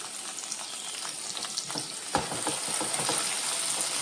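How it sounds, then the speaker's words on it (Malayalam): Tamarind and curry leaves fry in a pan with a steady, hissing sizzle. Scattered crackles and pops, along with a scrape of stirring, break through partway, and no one speaks. "ഇത് സ്വല്പം ഇത്രയും പുളി, സ്വല്പം കരിയാപ്പില, എല്ലാം കൂടെ ഒന്ന് നമുക്കൊന്ന് വറുത്തെടുക്കാം"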